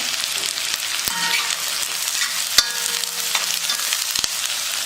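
Onions and green chillies for restaurant-style egg fried rice fry in a pan with a continuous close sizzle, and a few sharp clicks and scrapes of stirring cut through it.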